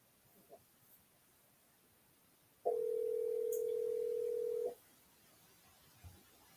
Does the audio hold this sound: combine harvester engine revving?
no